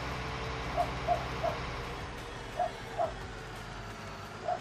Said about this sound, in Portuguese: Deixa os cachorros, se vocês estiverem escutando, ignorem eles.